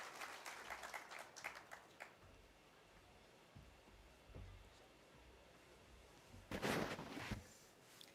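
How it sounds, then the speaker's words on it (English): Audience applause at the 25th EAC MSMEs Trade Fair in Kenya as an ITC executive director takes the stage, a moderate burst of clapping that fades and returns louder near the end, with some background murmur. "Let's clap for her."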